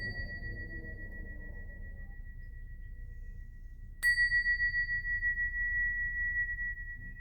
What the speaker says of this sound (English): I'm going to ring some bells to clear this energy